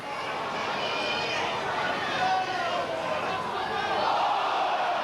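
Rugby league crowd at a 1990 Sheffield Eagles versus Leeds match, a steady mass of distant shouting and babble that swells slightly midway, with commentary-style talk faintly mixed in.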